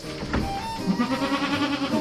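Goats on a farm in Mindoro bleat in short wavering cries, one quickly after another, fairly close.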